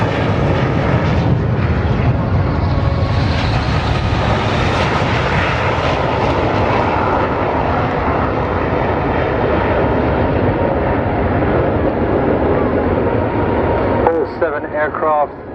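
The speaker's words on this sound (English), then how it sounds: "Thrust reversers deployed, and my goodness, that was a short landing." A jet aircraft lands at the Farnborough International Air Show with thrust reversers deployed, a loud continuous roar filling the whole stretch before easing off, with a voice coming in at the very end.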